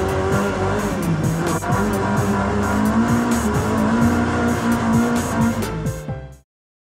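Ford Mk1 Escort with an ST170 engine driving, a loud close engine note rising and falling through gear changes with rhythmic pulsing, then cutting off abruptly near the end.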